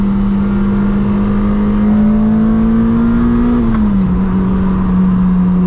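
A Lotus Elise engine pulls steadily from inside the car on a road drive, a loud, smooth rising drone that eases off near the end with no talking.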